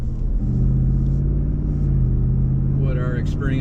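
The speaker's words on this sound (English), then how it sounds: "with the aggressive sound, exhaust sound on the highway" A Jeep Wrangler Rubicon 392 with an H-pipe exhaust cruises on the highway, a deep steady droning rumble with road noise, continuous and close throughout.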